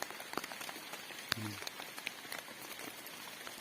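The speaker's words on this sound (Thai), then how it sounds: "ฝนมันก็ตกแรงครับ" Rain falling hard outdoors in a rural hill setting near a fish pond, heard as a quiet, irregular patter of drops striking surfaces with scattered sharper taps and a brief low thump.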